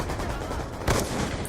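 An MK48 machine gun fires in the Black Ops 2 video game, giving a rapid burst of shots with a sharper crack near the end, heard over steady game background noise.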